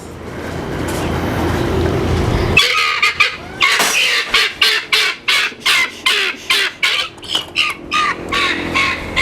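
Live chickens at a farm cluck in a rapid, rhythmic series of loud, close calls that start abruptly after a stretch of steady background noise.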